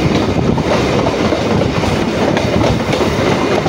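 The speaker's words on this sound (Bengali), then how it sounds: "এবার আমাদের ট্রেন খিদিরপুরের দিকে এগোচ্ছে" A local train on the B.B.D. Bag–Sealdah line via Majerhat runs along an elevated track towards Khidirpur, giving a steady, loud rumble with clickety-clack wheel noise throughout and no voices.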